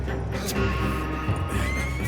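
A horse neighs loudly up close amid busy Red Dead Redemption 2 game sounds, with hooves clopping underneath.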